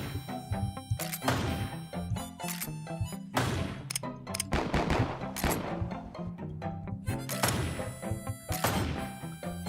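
Rifle gunshots from the pixel-art western game Westerado, a rapid series of loud, sharp cracks and crashing hits bunched across the stretch alongside game music.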